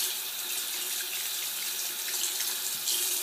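A bathroom or kitchen sink tap runs in a steady, close hiss of falling water, unbroken and alone, while soap is rinsed from a hand and a make-up brush.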